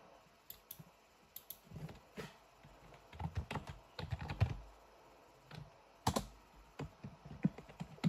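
Quiet typing on a computer keyboard while chatting in a Roblox restaurant tycoon game, with irregular bursts of soft key clicks and taps close to the microphone.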